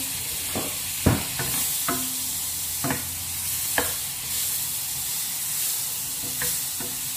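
Butter sizzles in a hot pan with a soft steady crackle, broken by several sharp knocks and scrapes from stirring at close range, with no voices.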